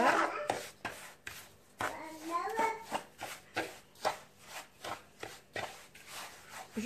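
Hands rub semolina together with fat in a bowl, producing rhythmic gritty swishes roughly twice a second, close and fairly quiet, with a voice speaking briefly at the start.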